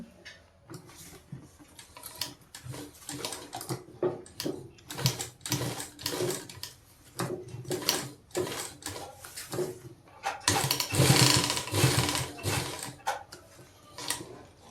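Sewing machine stitching a zipper onto a jacket, running in repeated short bursts of rapid mechanical clatter with pauses between, close and moderately loud, no talking.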